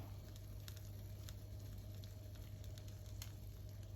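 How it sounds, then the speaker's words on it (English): Steady crackling sizzle of stuffed bell peppers frying in a pan, continuous and close, with a constant low hum underneath and no voices. "You can hear the sizzling sound."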